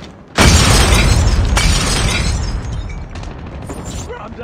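A grenade blows up in Call of Duty Mobile on the Halloween Standoff map: a sudden, loud blast that bursts in at once, then rumbles and slowly fades over several seconds.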